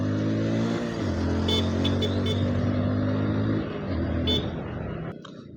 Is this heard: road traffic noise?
yes